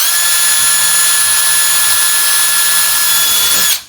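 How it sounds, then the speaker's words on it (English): A high-pitched power drill whines steadily at full speed for a few seconds, drilling through scroll saw material with a glued paper template, close and loud, then winds down abruptly. "just drilling through this material"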